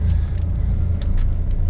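A bus in road traffic gives a loud, steady low rumble of engine and road noise from inside, with faint soft hisses or clicks now and then.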